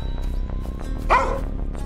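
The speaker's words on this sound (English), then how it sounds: "Dog." A dog barks in the Thief Simulator 2 video game, one sharp, fairly loud bark standing out over steady game background noise.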